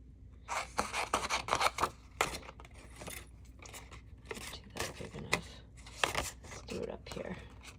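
Patterned designer paper is trimmed for an advent calendar craft project with washi tape, giving a run of crisp cutting and rustling snips and paper handling, while a person talks quietly throughout.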